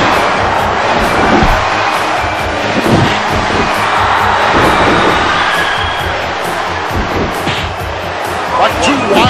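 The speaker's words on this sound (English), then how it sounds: "Chant going on from this capacity crowd" A capacity wrestling arena crowd at WWF Survivor Series, Hulk Hogan vs Jake Roberts, roars and chants USA in a rhythmic, continuous swell while a commentator talks over it.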